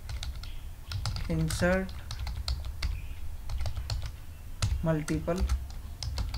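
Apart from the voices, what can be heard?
typing on a computer keyboard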